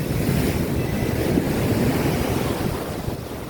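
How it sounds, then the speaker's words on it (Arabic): Sea waves breaking on the Alexandria shore, a rumbling surge of surf with wind buffeting the microphone, steady and close with no speech. "انها الموجه"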